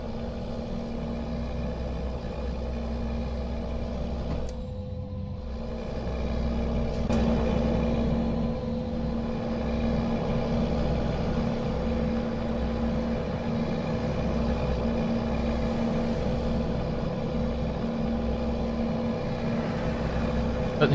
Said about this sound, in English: This is a nice quiet truck. Cruises nicely.